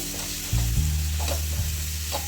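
Turmeric and chili powder sizzling in hot oil as they are stirred, a close steady hiss with a few utensil scrapes.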